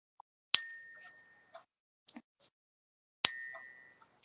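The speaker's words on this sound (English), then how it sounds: "if you have an Ike dollar and you're wondering what it sounds like in comparison" A clad, non-silver Eisenhower dollar coin struck twice, each strike giving a bright, high metallic ring that lingers and fades, with a small tap between them.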